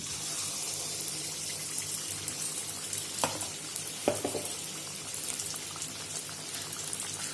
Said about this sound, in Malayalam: മാവ് കോരി ഒഴിക്കാം.